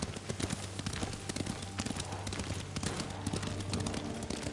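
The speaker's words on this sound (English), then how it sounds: "Lord Sakai taught me to ride a horse." Horse hooves clip-clop in a steady galloping rhythm as a rider travels on horseback in the video game Ghost of Tsushima, the hoofbeats close and continuous over a busy game soundscape.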